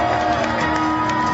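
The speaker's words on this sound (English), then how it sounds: "you have to clap now." Crowd at a Florida Bike Week street show cheering and whooping loudly and close by, a steady roar of voices with scattered shouts through the whole stretch.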